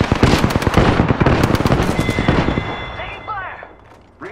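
Rapid, dense bursts of video game gunfire crackle loudly for about two and a half seconds, then thin out into a quieter stretch with some scattered sounds.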